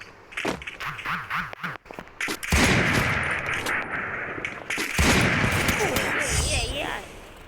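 Video game gunfire from a double MAT shotgun, heard as a string of sharp shots and heavier blasts that thicken into a loud, dense barrage in the second half, with some voice-like sound mixed in.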